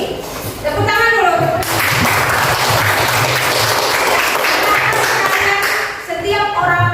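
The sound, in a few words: class applause, clapping hands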